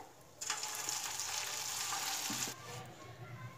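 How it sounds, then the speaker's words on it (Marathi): Cabbage Manchurian pakoras deep frying in hot oil, a steady close sizzle that swells after a brief quiet start and eases slightly toward the end. "तर अशाच प्रकारे आपण बाकीचे पकोडे आपण यामध्ये तळून घेऊयात"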